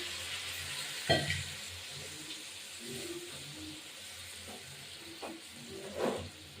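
Steady hiss of a little water hitting a hot pan of giant freshwater prawn dopiaza, with a few sharper sizzling bursts and faint clatter from the pan, close and moderately quiet, no voices.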